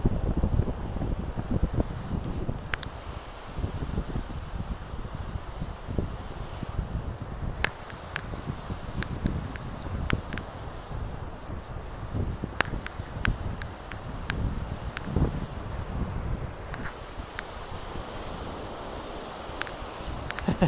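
Strong seaside wind in February buffets the microphone in a steady, gusty rush of broadband noise for the whole stretch, with no talking.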